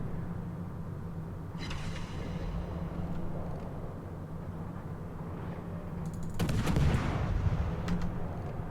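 Naval guns firing armour-piercing shells in World of Warships, a light cruiser HMS Dido engaging a broadside Amalfi; two booming salvos, a smaller one early and a heavier, louder one near the end, over a constant low engine hum.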